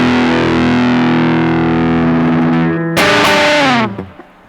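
An electric guitar through a Fuzz Face pedal set for low gain with a mid boost rings out loud, a sustained distorted chord giving way to a fresh strummed chord that then cuts off to near silence.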